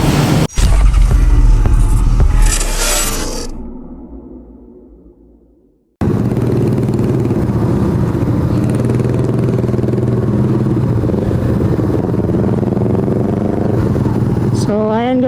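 A Rusi Flash 150 motorcycle engine revs loud and close, surging, then falling away before a steady throaty run resumes, with a person talking over it.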